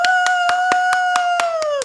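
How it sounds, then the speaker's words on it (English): Hand claps at a steady rhythm, about nine sharp strikes in under two seconds, close and fairly loud, with a steady tonal hum running underneath. "Claps, pats on the back, whatever."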